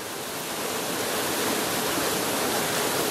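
A mountain creek not marked on the map, in the hills north of Nerja, rushes with a dense, continuous broadband hiss, close and steady for a few seconds with no voices.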